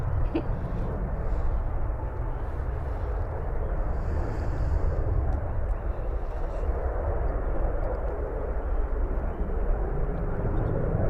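An airplane departs Christchurch airport, its engine roar a broad, steady rumble heard from a distance and mixed with wind buffeting the microphone, holding constant throughout.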